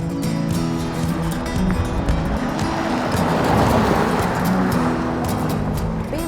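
A BMW 7 Series saloon (2013) drives along with a steady engine hum and road rumble, rising a little midway, with a few faint clicks on top.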